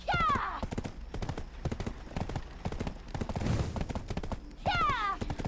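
A horse gallops with rapid, loud hoofbeats in Black Desert Online, accompanied by whinnies near the start and end and a burst of noisy action in the middle.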